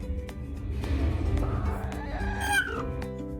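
A chicken clucks close by in a short run of low, throaty clucks that rise into a brief higher-pitched squawk near the end, loud and alone.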